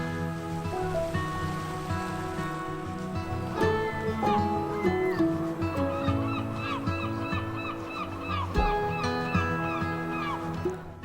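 Ducks and geese honk and quack repeatedly, close and loud, on the shore at Lomesanden Beach in southern Norway, with gentle water sounds beneath the calls.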